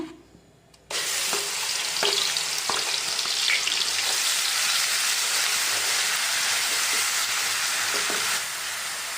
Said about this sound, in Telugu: ఇప్పుడు ఉల్లిపాయ ముద్ద వేసి ఫ్రై చేసుకుందాం